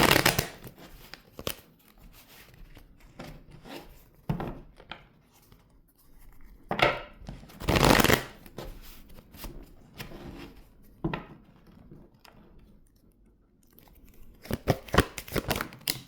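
Tarot cards are shuffled close up in quick riffling bursts, separated by quieter pauses and softer rustling, with a dense flurry of card flicks near the end.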